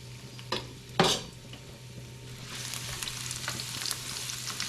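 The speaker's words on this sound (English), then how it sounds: "I'll saute my garlic first" Garlic sautés in a pan with a soft, steady sizzle that grows fuller partway through, with a couple of sharp utensil knocks near the start and no talking.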